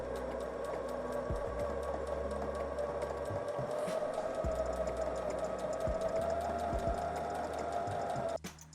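A budget sewing machine fitted with a stretch needle runs a long straight stitch on stretch fabric, giving a steady rapid whirring hum close up that stops abruptly at the end.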